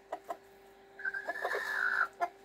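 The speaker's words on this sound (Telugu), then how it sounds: "చాలా మంచి కోడి పిల్ల" A young chicken in a breeding section of a poultry farm gives a few short, soft clucks, then a drawn-out higher call, heard close in a quiet setting.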